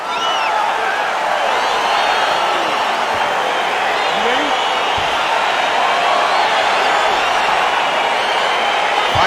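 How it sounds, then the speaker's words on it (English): Crowd roaring in the UFC 4 fighting game, a dense, steady wall of cheering and whistles sustained at full level throughout, with overlapping chatter from many voices. "Crowd getting excited as this fight gets underway"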